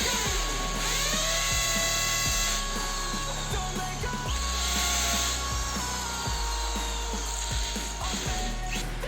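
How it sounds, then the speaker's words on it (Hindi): A power drill bores into a wall, a loud whining motor with repeated bursts and pauses as the bit bites in, running alone without speech. "अच्छे से ड्रिल करना सौरभ।"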